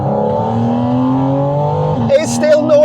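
A Porsche Spyder RS engine with the roof on hums loudly at a steady pitch, then people start talking over it.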